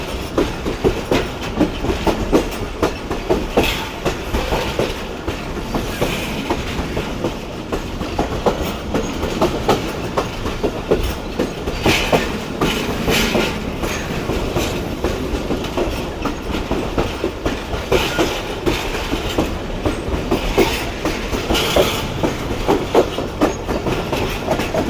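The Islamabad Express rolls steadily across a long bridge, a continuous loud rumble with rhythmic clickety-clack of wheels over rail joints, heard from inside the coach with no talk.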